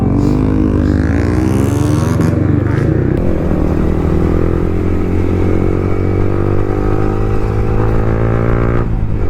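A KTM Duke 390 motorcycle engine roars steadily through a wheelie ride at night, loud and continuous with shifting revs, while a voice talks over it.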